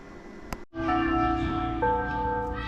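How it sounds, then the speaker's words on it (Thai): A school's automatic bell rings over the loudspeaker system, driven by one power amplifier and four horn speakers: a loud, sustained, ringing electronic tone that starts abruptly after a brief pause and holds steady to the end, with no talking. "เสียงดังเลยครับออดเสียงดัง"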